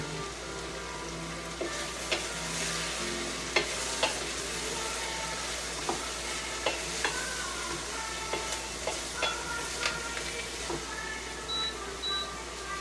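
Vegetables with parsnip cook in a pan for soup, a low steady sizzle under regular scraping knocks of stirring, with a couple of faint beeps near the end and no talk.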